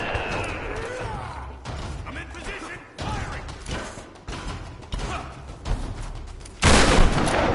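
Gunshots from a weak gun in Tomb Raider (2013): a handful of sharp, spaced shots with mechanical clicks and creaks between them, then a louder burst of noise near the end, with some game sound around them.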